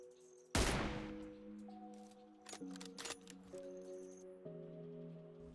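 A sharp, loud sniper rifle shot in a video game fired from high ground across roughly 475 meters, followed by fainter clicks and mechanical game sounds over a steady tonal background.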